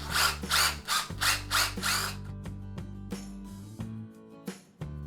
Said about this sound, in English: That's what we're doing, countersinking.